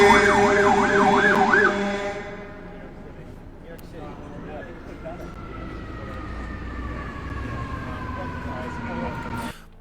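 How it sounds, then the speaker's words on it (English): Street traffic rumbles steadily in the background, opened by a loud wailing emergency siren for the first two seconds, then a continuous low hum of passing vehicles with faint voices underneath. "it's hard to hear them because of the traffic in the background"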